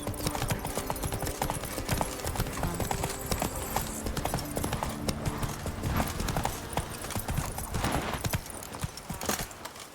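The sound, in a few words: horse galloping in The Witcher 3 video game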